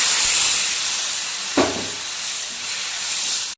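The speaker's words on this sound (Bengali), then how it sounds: "এখন একটু জল দিয়ে দেবো।" Water poured into a hot pan of potatoes frying in chilli and cumin powder for a fish curry, a loud continuous steamy hiss with a brief sharp burst midway, then a steady sizzle.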